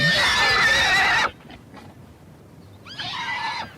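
A frightened horse lets out a loud, shrill whinny, then after a short quiet gap gives a second shorter neigh, close and clear.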